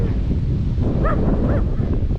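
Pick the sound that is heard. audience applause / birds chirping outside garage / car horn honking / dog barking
dog barking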